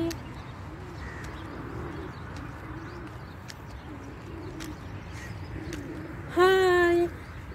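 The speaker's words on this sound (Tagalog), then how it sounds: "Ayan ang kalapati. Good morning, kalapati." Pigeons coo softly in a low repeating murmur outdoors near a beach promenade close to a highway, ending with a sudden loud whistle-like burst.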